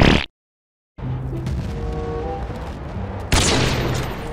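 Gunfire in the video game Battlefield Bad Company 2, loud shots and a booming burst, then a short silence and a sustained rumble of combat noise that swells again near the end.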